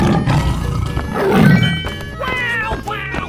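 A tiger roars in a 3D animal sliding video game, loud over busy game music and effects, with a strong roar swelling in the middle of the stretch.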